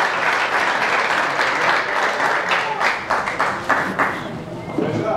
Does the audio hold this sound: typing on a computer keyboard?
no